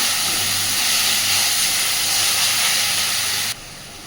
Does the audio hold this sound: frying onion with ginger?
yes